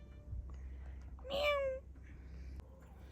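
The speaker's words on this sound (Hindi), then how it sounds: "और तो छोटी सी कैट यहाँ पे आ रही है, माओ बिल्ली।" A small cat gives a single short, bright meow at close range, brief and fairly quiet against a soft background hum.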